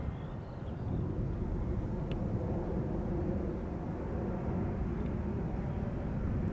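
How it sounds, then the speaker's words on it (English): Transavia Boeing 737-800 arriving at Schiphol Airport, a steady broad jet roar that holds at an even level throughout, with faint wind buffeting on the microphone. "arriving from Olbia, flight 6916 737-800, the PHHBJ"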